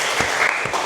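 An audience at an Indonesian university PPG teacher-training closing event claps in a short burst of dense, even applause close by.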